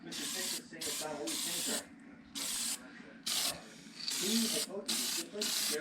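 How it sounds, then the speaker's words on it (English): Light coats of spray paint from an aerosol can hiss in bursts over rust repair on a car, roughly seven spurts of about half a second to a second each with brief pauses between, close and steady. "Remember, guys, this is paint cans, not from the compressor."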